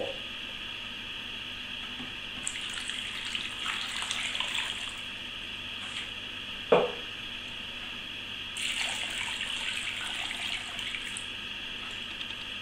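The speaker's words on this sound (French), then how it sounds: "je vais remplir à hauteur avec de l'eau, de façon à ce que la viande trempe" Tap water runs into a pot of meat until the meat is covered, a steady faint flow in a kitchen with a single clunk partway through and no talking.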